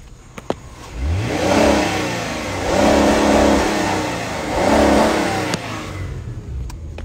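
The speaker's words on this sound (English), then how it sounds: "Man, my car sounds sexy as fuck." A Hemi V8 car engine revs up close in three strong bursts, with a loud throaty rise and settle at idle between each, and no talk.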